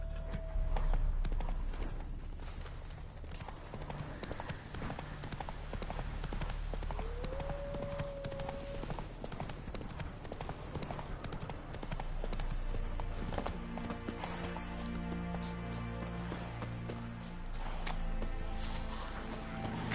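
Roach the horse galloping in The Witcher 3, a steady, close clip-clop of hooves running on without a break, with game music and ambience underneath and a short whinny-like tone partway through.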